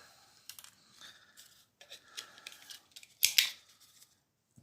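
Cutters snip through wire pulled from an e-waste pile, giving a series of sharp, close clicks and crunches with a louder double snap near the end and quiet gaps between cuts.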